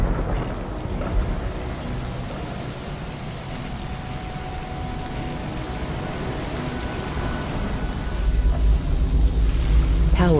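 Steady heavy rain with low rumbling thunder fills a VR game scene near a bridge, a broadband wash that swells louder toward the end with a deeper roll of thunder.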